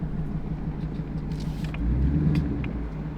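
Twin turbo Ford Mustang with a manual clutch pulls away gently as the clutch grabs, a low steady engine rumble that swells slightly, heard from inside the car without talk.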